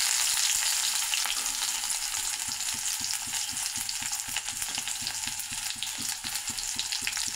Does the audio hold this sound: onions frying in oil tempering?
yes